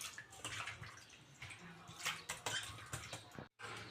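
Raw prawns swished by hand in a bowl of water with a little turmeric powder: close, continuous splashing and sloshing with small drips, briefly dropping out near the end before resuming.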